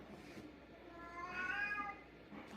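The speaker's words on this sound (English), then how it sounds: "You hear this cat?" A cat meows once in a drawn-out, wavering call, fairly faint and somewhat distant, over a quiet indoor room tone with no talking.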